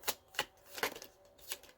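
Tarot cards being shuffled by hand in a series of quick, crisp riffling bursts, about five short papery flurries with brief gaps, close and fairly quiet, no voices.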